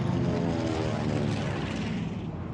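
Pan American Clipper airliner flying over mountains in WWII-era archival footage, a loud, steady propeller engine drone with a thick low rumble that holds evenly throughout.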